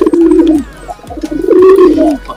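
A gambir (brown) racing pigeon coos in two long, resonant phrases with a short break between them, close and fairly loud with no other sounds around it.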